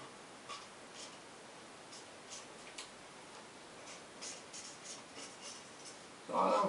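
A marker sketches a Hulk comic outline on paper in quiet, soft scratchy strokes, each brief and repeated in an irregular rhythm, close and faint, with a louder rustle at the very end.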